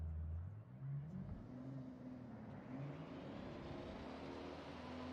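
A car engine in Forza Horizon climbs steadily in pitch as it accelerates, a smooth, droning rise with no talk, heard very faintly.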